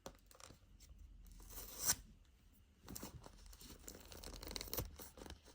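Samsung Galaxy A55 box packaging torn open by hand: soft rustling and crinkling build to one sharp ripping burst near the middle, then more scattered scraping and crinkling, all close and fairly quiet.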